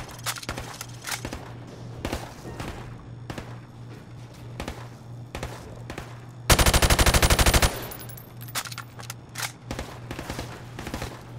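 Rifle fire from the video game Call of Duty: Modern Warfare Remastered, played on Xbox Series S: sharp single shots crack at irregular intervals around a loud, rapid full-auto burst lasting about a second.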